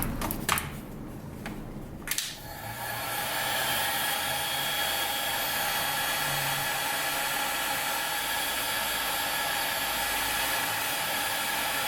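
A heat gun blows steadily on an iPad Mini 4, softening the glue beneath its screen: a few handling clicks, then a constant loud broadband hiss and whoosh that holds unchanged to the end, with no talking.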